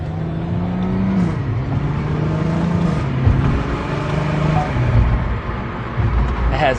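A Volkswagen R32 with a DSG gearbox drives through city streets, its engine droning steadily and close with shifting tones and a warbling note, continuous throughout with no one talking.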